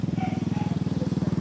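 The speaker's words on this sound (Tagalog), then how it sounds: "Yung nakamotor na daan, oh." A motorcycle on a road, its engine giving a steady, fast pulsing drone that stays fairly loud and close throughout, with faint voices in the background.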